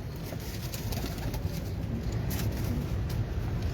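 Breeder pigeons on a rooftop coo in low, repeated murmurs that overlap in a continuous background chorus, fairly close and steady, with no talking.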